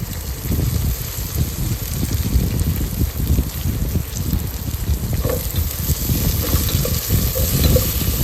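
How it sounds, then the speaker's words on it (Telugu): Coriander and mint fried with ginger garlic paste for a mutton dish, a loud, continuous close sizzle with occasional stirring scrapes and no speech. "సో ఇప్పుడు దీంట్లోనే మనం కొరియాండర్, మింట్ కూడా వేసుకుని కొంచెం ఫ్రై చేసేసుకుందాం."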